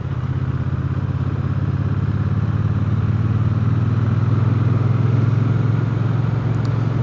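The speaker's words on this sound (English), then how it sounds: "This is a 2022 Triumph Bonneville T120," A 2022 Triumph Bonneville T120 motorcycle engine runs steadily at idle, a deep, even low-pitched thrum with a light mechanical clatter, close and constant throughout with no speech.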